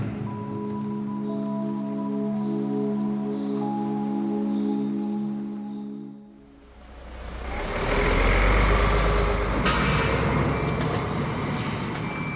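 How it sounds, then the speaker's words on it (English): A city bus in Medellín rumbles and hisses loudly as it drives, following a sustained tonal hum that fades into a brief lull, with no speech. "We boarded a city bus that must have been the inspiration for the night bus in Harry Potter."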